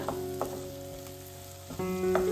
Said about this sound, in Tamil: முருங்காவை போட்டு மசாலா கூட நல்லா கலந்து விட்டுக்கலாம்